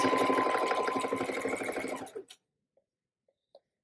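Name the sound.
sewing machine stitching the final side of a drawstring bag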